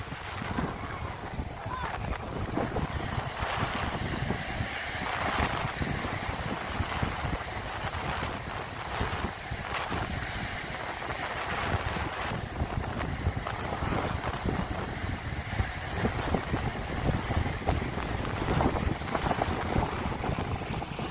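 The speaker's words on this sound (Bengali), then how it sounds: "স্পিড বোট দূরে, ওই দেখুন অনেকে স্পিড বোটে" Speed boats out on the sea off Rushikonda Beach in Visakhapatnam: a distant motor drone blends with steady wind buffeting and surf, with voices talking in the background throughout.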